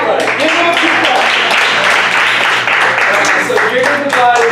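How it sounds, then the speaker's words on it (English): A group of people in a gym fitness class clap together, a dense, steady patter of hands that holds for several seconds, mixed with voices chattering underneath. "Give me a few claps"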